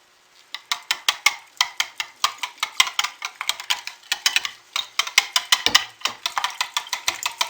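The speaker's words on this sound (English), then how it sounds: "So I'm going to take my whisk and stir it in first." A whisk stirs pigment into a soap mixture, clacking rhythmically against the bowl in quick, steady strokes that build after a soft start and continue close by without any talk.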